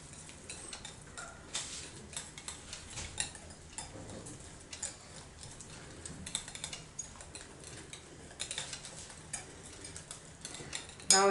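A spoon rapidly mixing wet ingredients into an egg, butter and sugar mixture for masala biscuits, producing a steady run of light, close ticking taps against the bowl, quiet and alone without talk.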